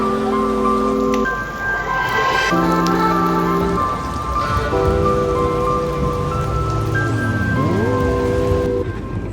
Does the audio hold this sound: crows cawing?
no